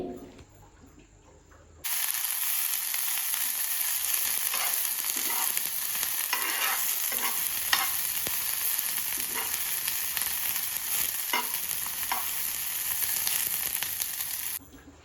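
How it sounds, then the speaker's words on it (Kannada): Ingredients roasting on a hot tawa give a steady, even sizzle that begins abruptly after a quiet moment. Faint scrapes and ticks sound now and then under the sizzle, and no one speaks. "ಸ್ವಲ್ಪ ಎಲ್ಲನೂ ತವಾ ಮೇಲೆ ಹಾಕ್ಕೊಂಡು ರೋಸ್ಟ್ ಮಾಡ್ಕೋತಾ ಇದ್ದೀನಿ ನಾನಿಲ್ಲಿ"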